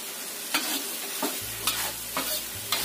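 Candlenut and garlic sauté in a hot pan with a steady sizzle, while a spatula scrapes and stirs at a regular pace of about two strokes per second, close up.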